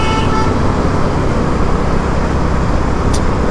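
A vehicle horn toots amid loud, constant road traffic noise, the honk brief and partly buried under the roar of passing cars and buses.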